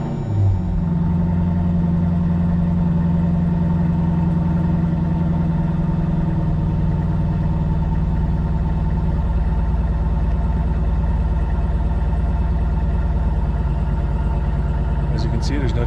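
A Dodge Durango SRT fitted with an 87mm ported throttle body idles with a steady, loud, deep rumble. The tone shifts slightly near the start, and a brief clatter comes right at the end.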